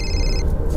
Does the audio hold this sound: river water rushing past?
no